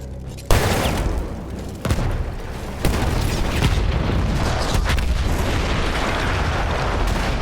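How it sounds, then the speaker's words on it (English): Battlefield 1 combat erupts with a heavy explosion boom followed by further blasts and sustained rumbling gunfire, loud and dense throughout with sharp onsets, no speech over it. "That explosion was one of the sweetest sights of the war for me."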